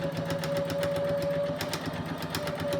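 A sewing machine running steadily while stitching down the sides of a simple cushion, a close rapid mechanical whirr with even needle ticking throughout.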